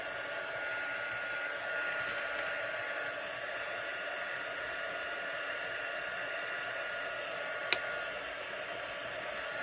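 A heat tool blows steadily to melt embossing powder on rubber-stamped layers, a continuous close, loud hair-dryer-like whoosh with one brief tap near the end.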